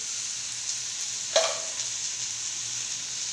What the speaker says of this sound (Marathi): तोही आपण चांगला परतून घेऊया